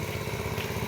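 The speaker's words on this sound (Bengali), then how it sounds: "ওইদিকে ডিপ মেশিন চালু করছে পানির মেশিন" A steady, low engine drone from a deep tube-well water pump, with a regular chugging pulse, running continuously and fairly loud throughout.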